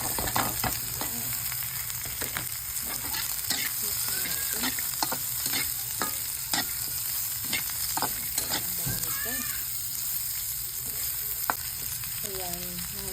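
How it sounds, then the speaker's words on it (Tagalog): Shredded cabbage stir-fried in a hot pan: a continuous sizzle with frequent scraping and clattering strokes of the spatula, close and fairly loud, with no talk. "Nilagay na natin yung ating repolyo and then mix."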